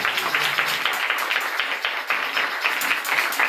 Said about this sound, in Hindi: खुदावंद के लिए जोरदार तालियां बजाएं।